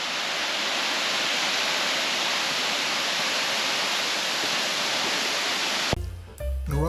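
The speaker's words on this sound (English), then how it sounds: "Narada Falls is a spectacular 188-foot waterfall" Loud, constant roar of Narada Falls, a 188-foot waterfall, a dense broadband rush that fills the scene, ending with a brief clatter at the close.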